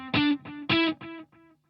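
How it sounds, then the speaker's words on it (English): GTRS electric guitar notes played with a delay effect, each plucked note followed by fading repeats, clear and up close with no voices. "this sound only has some delay."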